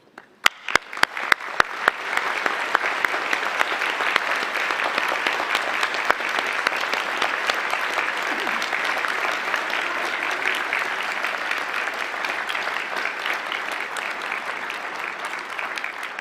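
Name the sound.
standing ovation applause for graduates' parents, families and friends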